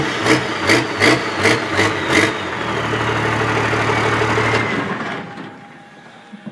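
A 1973 Ford truck with a swapped-in Cummins diesel cranks in a steady chugging rhythm for a few seconds, catches and settles into a loud, rough idle. It then drops away to quiet, with no talk.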